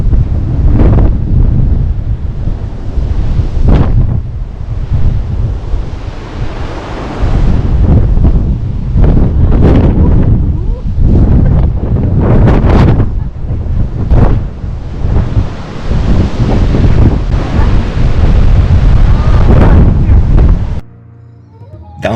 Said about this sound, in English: The wind was back again, shaking branches. It was loud